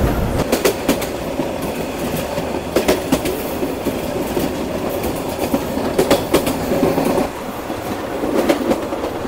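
The Korotoa Express rolls along a worn rail line between Santahar and Burimari, a loud, continuous rumble broken by sharp rhythmic clickety-clack bursts as the wheels pass over rail joints.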